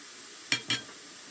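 Onion, carrot and celery sautéing in a pan, with two quick, sharp scraping stirs close by against a faint background hiss.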